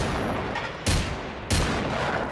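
Two sharp pistol shots from the video game Generation Zero, spaced about half a second apart, each a loud broadband crack over a steady background of game ambience.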